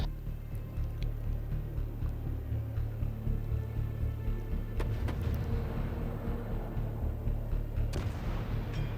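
Naval gunfire in the World of Warships game rolls on continuously through the clip as booming thuds and low rumble, with a louder crack near the end.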